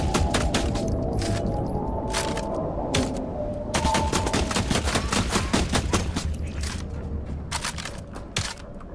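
Rapid volleys of gunfire from The Last Caretaker, sharp cracks in dense bursts shooting down a flying creature, loud and close with brief pauses between the strings of shots, no talking.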